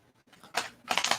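A deck of tarot cards being shuffled by hand, heard close up as a soft rustle followed by two bursts of quick, crisp riffling clicks, with no voices.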